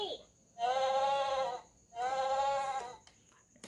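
Toy music box playing a recorded sheep sound, two loud electronic bleats in a row, each about a second long, heard close and alone.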